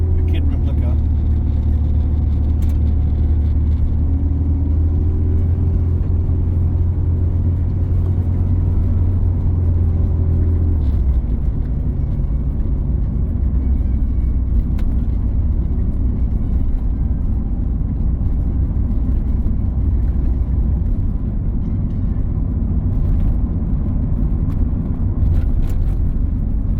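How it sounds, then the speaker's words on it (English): Steady low engine rumble and road roar fill the cabin of a K.I.T.T. replica car on a night drive, continuous and close throughout with a slight pitch shift midway. "Just a little POV ride just to show you guys what it's like to ride a K.I.T.T replica."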